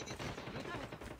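Rapid gunfire bursts in a team shooter video game, dense and continuous for about a second, over a busy game mix with a voice in the background.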